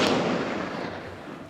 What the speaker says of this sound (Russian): Все, выстрел.